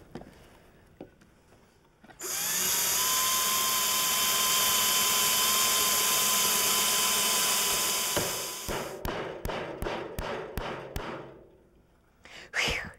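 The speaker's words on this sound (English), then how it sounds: "pre-drill through here and through here." A power drill bores pilot holes through old wood for large copper boat nails, one long steady high whine lasting several seconds, followed by a string of short sharp bursts and taps close by.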